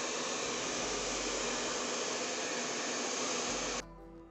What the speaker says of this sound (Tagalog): gamit po kayo ng blower para po matuyo siya